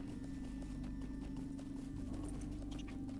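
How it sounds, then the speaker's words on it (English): Horse hooves clip-clopping in a video game, a faint, steady trotting rhythm over a low droning background hum. "My poor horse Midnight is not going to survive this trip"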